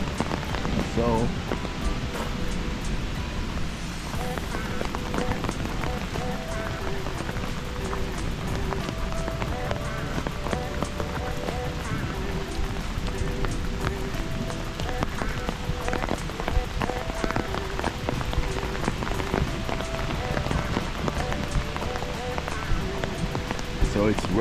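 Heavy rain pours steadily through a Swiss forest, a dense unbroken hiss of drops on leaves and ground, close and constant throughout, with a voice speaking faintly beneath it.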